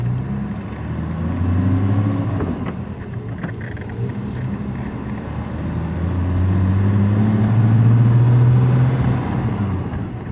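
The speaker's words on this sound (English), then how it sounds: "First gear, and we're off." A 1962 Mercedes-Benz 300d limousine pulling away in first gear, its engine droning steadily and rising in pitch as it accelerates, heard from inside the car with no talking.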